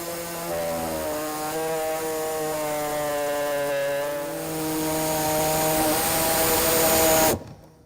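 A power cutting tool bores a 1.5-inch square hole through the plastic rear bumper of a 2012 Mini Cooper Countryman for a trailer hitch, a steady loud whining buzz that rises in pitch and stops abruptly.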